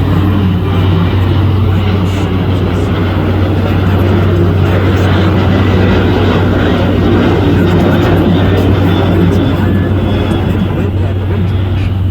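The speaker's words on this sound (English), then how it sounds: "And there goes yet another airplane departing from Logan Airport." A departing airplane climbs out of Logan Airport in Boston, heard from a harbor tour boat as a loud, continuous engine roar over steady low rumble throughout.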